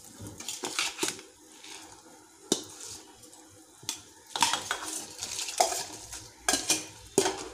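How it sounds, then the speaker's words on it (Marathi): Rice tipped into a pot of boiling water with a little oil makes repeated splashing and stirring bursts, close and fairly loud, against a bubbling background. "आता आपण पाणी उकळलं आहे, त्यामध्ये आपण तांदूळ टाकून घेऊया।"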